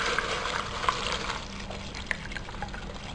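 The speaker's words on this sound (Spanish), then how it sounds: "Y le agregamos agua hasta que tape la pieza." Water pours over a piece sitting in a ceramic mold, giving a soft, continuous liquid trickle with a few small splashes and drips. It is close by and heard alone, with no speech.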